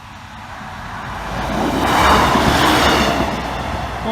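A single-carriage train runs past in a steady rumble that swells to a peak near the middle and then eases slightly, staying fairly close and loud throughout.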